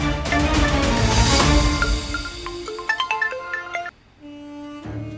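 A phone notification ringtone sounds in a tense Turkish TV drama scene, a bright melodic chime pattern of rising and falling tones ringing clearly for several seconds, with no talking.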